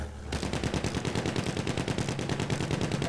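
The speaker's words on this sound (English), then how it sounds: "even our teammates are shooting us when we're flying now" Teammates' automatic weapons rattle nonstop in the World War I shooter Battlefield 1, a rapid, even stream of close, loud gunshots that runs the whole way with no talking.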